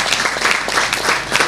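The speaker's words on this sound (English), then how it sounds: "Let's give them a big round of applause." An audience applauds for a list of sponsoring media partners at a Muslim women's peace and development event, with dense, even clapping that holds steady throughout.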